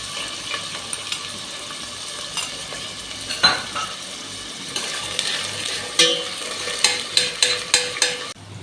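Chopped onions for Egyptian koshari fry in a cooking pot, giving a steady soft sizzle broken by scraping stirs and a series of sharp metallic clinks near the end.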